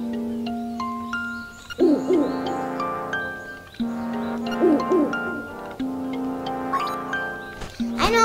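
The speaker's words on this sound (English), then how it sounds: "Just owl." Owl hooting in the video game Link's Awakening, a repeated chiptune-style tonal hoot in rising steps, clear and up close, with brief game jingles between phrases.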